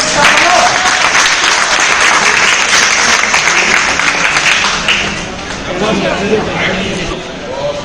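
Loud, sustained applause from a crowd gathered at a hospital honouring its nurses and staff, continuous clapping with some chatter, easing briefly near the end before rising again.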